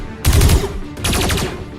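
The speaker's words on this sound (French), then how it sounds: "Je vais utiliser mon canon pour le tuer." Cannon blasts from an animated Dragon Ball style battle: two loud, booming bursts with rattling tails, one at the start and a second about a second later, heard alone without speech.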